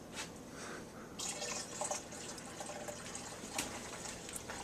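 Beer wort pours into a keg already holding cold water, a steady close splashing stream with a brief louder gush near the start and trickling drips, no voices.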